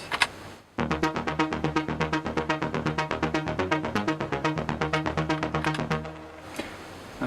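A Jupiter 8 synthesizer plays a rapid, pulsing chord pattern, fast evenly repeating stabs forming a steady rhythmic throb, loud and alone, then stopping abruptly near the end.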